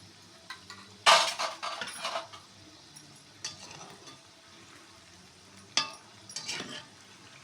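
Raw jackfruit slices are tossed by hand in a bowl with turmeric and salt, giving scattered soft clatters and scraping bursts, one louder burst early on, in a quiet kitchen.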